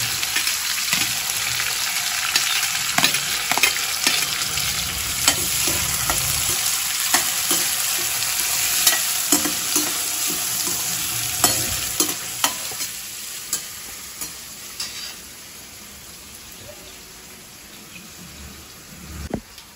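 Onions sauté in a hot pan for kara kuzhambu, a close, steady sizzle and frying crackle with repeated stirring scrapes, continuing without talk.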